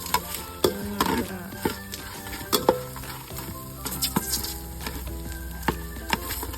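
Shrimp heads stir-fried in a pan for Thai kaeng liang soup, with a steady sizzle broken by repeated scraping and clattering spatula strokes against the pan, close and fairly loud, and no talking.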